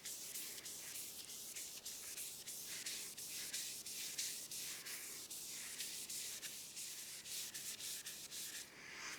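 Rag strokes spreading wood dye along a turned maple baseball bat, a steady run of soft, even rubbing swishes repeating end to end, close and continuous with no talk.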